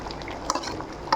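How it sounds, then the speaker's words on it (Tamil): Carp fish head curry stirred in a pot, a brief burst of wet, thick stirring with a couple of soft clinks of the spoon against the rim, close and without talk. "இதெல்லாம் நல்லா கிண்டி விடலாம்"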